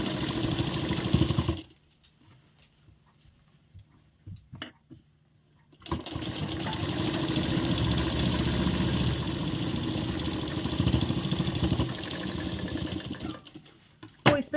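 A sewing machine runs steadily while double-stitching a shawl-collar blouse, with a loud close whir that stops briefly before starting again for a long continuous run.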